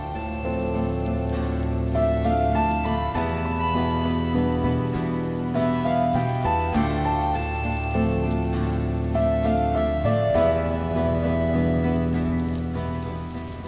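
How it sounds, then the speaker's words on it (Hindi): Heavy rain pours steadily outside, a continuous wash of noise heard under sustained tonal music for the whole stretch. "बाहर बारिश इतनी तेज हो रही है"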